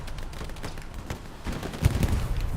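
Rockets launching and exploding in the Hell Let Loose World War II shooter, a run of booming blasts and gunfire that grows louder toward the end.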